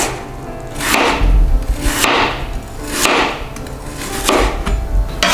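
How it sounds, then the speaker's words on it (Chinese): A knife cuts jicama into sticks on a cutting board, making a steady rhythm of crisp chops about once a second, close and clear, with no talk. "把豆薯切成条状"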